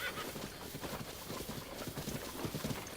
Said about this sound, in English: That's a 5-star speedster horse.